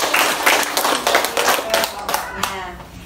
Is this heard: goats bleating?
no